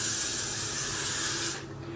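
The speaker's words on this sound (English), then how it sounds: "I'm going to use my Got to Be Glued spray" Got to Be Glued hair spray mists in one continuous close, bright hiss lasting over a second before stopping, leaving quiet room sound behind.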